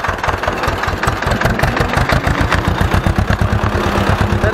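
An Ursus tractor engine runs loud and close with a steady low chugging throb, a continuous mechanical drone with no pauses.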